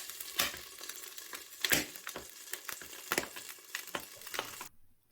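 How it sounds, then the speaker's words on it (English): Frozen mini omelettes fry in a pan, a soft crackling sizzle broken by irregular pops and spits, close and fairly quiet, ending abruptly in near silence. "Little mini omelettes cooked from frozen."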